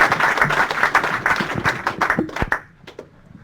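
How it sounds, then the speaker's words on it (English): An audience gives a round of applause for two presenters at a startup launch event, a fairly close burst of clapping lasting about two and a half seconds before it trails off into a few scattered claps. "let's give them a round of applause"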